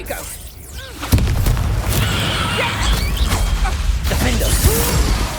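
Protego shield spell going off in the Hogwarts Legacy video game, a sudden burst at about one second followed by sustained whooshing, crashing battle effects with layered game sound throughout.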